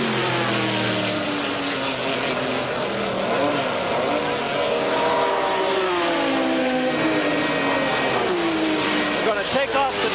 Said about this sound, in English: And in comes Wayne Baker into the pits.